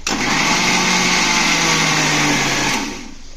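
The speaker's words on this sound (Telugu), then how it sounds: "టమాటా ముక్కల్ని కట్ చేసుకొని మిక్సీలో వేసుకున్నాను గ్రైండ్ చేసుకొని పేస్ట్లా చేసుకోవాలి" A kitchen mixer grinder whirs loud and steady while grinding cut tomato pieces into paste, a constant high motor drone close by that cuts off near the end.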